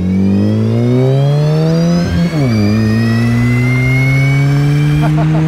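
A sporty car engine revs loudly alongside a moving e-bike, its steady drone dipping and rising in pitch once midway, close and continuous throughout.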